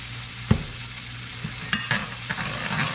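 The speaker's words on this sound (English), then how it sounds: "I'm gonna saute this about 2 minutes" Garlic sautéing in a pan, a steady low sizzle near at hand with occasional clinks and scrapes of stirring.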